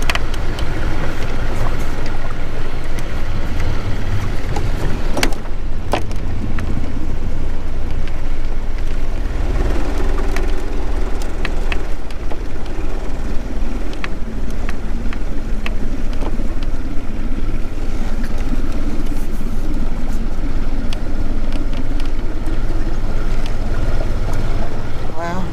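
Outboard motor on a small boat after an engine swap, droning steadily for the whole stretch underway, mixed with wind buffeting, water noise and occasional voices.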